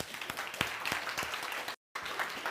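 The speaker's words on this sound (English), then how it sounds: "So give a round of applause to Caleb." An audience claps for a man named Caleb stepping up to speak at a testimony gathering, a steady patter of many hands at moderate loudness, broken by a brief dropout before the clapping resumes.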